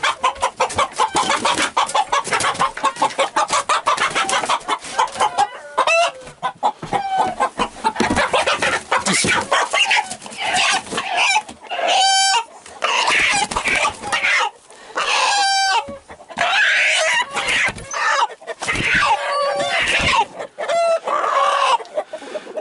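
Roosters cluck and crow repeatedly, several distinct cock-a-doodle-doo calls rising over continuous clucking from a nearby flock, with no talk.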